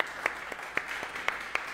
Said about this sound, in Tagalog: Palakpakan po natin si Jesus. The best pong palakpak para kay Jesus.